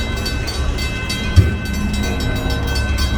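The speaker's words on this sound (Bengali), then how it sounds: "দোতলা ট্রেন, এই ট্রেনটা কিন্তু দোতলা" A double-decker train on the Milwaukee West main line rumbling past with a heavy low roar and a faint horn tone layered above, constant and close with one brief thump.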